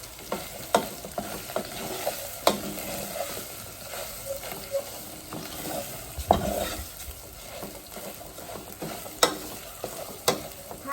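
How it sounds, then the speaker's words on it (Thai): Curry paste stir-fried in a pan over low heat gives a soft sizzle broken by repeated sharp scrapes and clinks of a utensil against the pan at an irregular pace. "เราก็จะผัดพริกแกงให้หอมเลยค่ะ"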